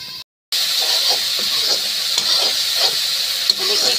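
Masala paste frying in oil in a kadhai for a banana curry, heard as a loud, steady sizzle and hiss with soft stirring scrapes, cut by a brief moment of silence near the start.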